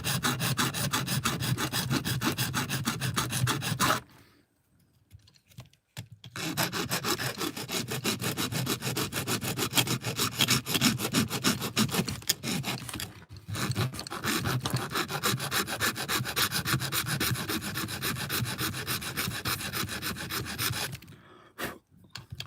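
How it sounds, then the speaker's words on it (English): A motor hole in a fully solid 3D-printed plastic part is enlarged with a hand tool, producing long stretches of close, loud, continuous grinding and rasping, broken by a few brief pauses, with no speech. "I'm just enlarging the hole for the motor to go into."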